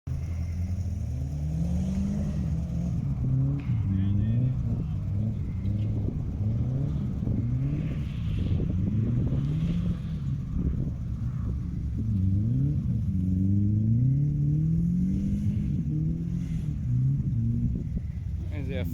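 Hyundai Excel car engine droning and revving through a motorkhana run on a dirt course, steady loud rumble with rising and falling revs for the whole stretch, voices faintly underneath.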